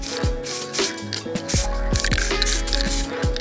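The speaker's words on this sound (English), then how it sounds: "we have to spray a bunch of minis" Miniatures being spray painted indoors: short bursts of an aerosol can hissing, each with a sharp knock or click at the start, in an uneven rhythm close by, with a faint tone underneath.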